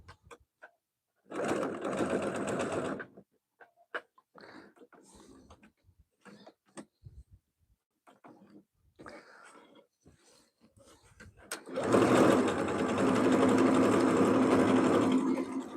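A sewing machine stitches Christmas tea towels trimmed with reindeer fabric, buttons and ric rac, running in two loud, steady bursts of whirring with quieter handling clicks and rustles between them.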